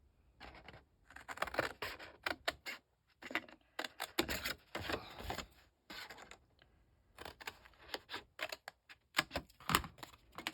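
Scissors snip paper pieces for a children's on-the-go book in quick, close bursts of crisp cutting, with short pauses between runs of snips.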